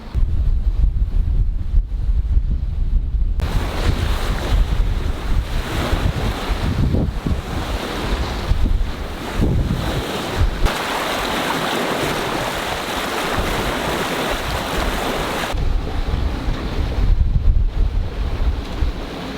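Strong, steady wind of about 17 knots roars over open sea during a sailboat crossing to Sweden, with waves and surf rushing past, loud and continuous, buffeting the microphone throughout.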